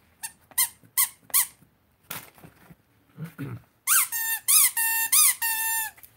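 High-pitched squeaky rockets fire in a video game, first as several short chirps and then as a quick run of louder, sustained squeals, close and alone.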